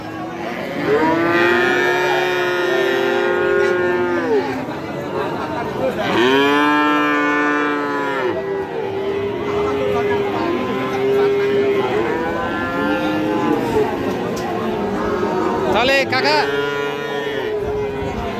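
Friesian and cross-breed bull calves at a cattle market moo loudly and repeatedly, long drawn-out calls rising one after another close by, with faint market chatter underneath.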